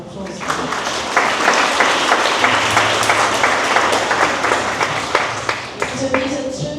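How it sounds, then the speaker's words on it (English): A crowd applauds at the Polynesian Cultural Center on Hawaii's North Shore during its 62nd-anniversary celebration, with loud, continuous clapping and a voice speaking over it. "Let's give a little round of applause."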